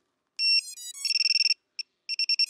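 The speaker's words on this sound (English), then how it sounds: "I really, really like this buzzer right here because look at this." A Flywoo Explorer LR micro FPV drone's buzzer gives shrill electronic beeping, a rising tone sequence followed by rapid bursts of high-pitched chirps, then a short pause and more quick beeps.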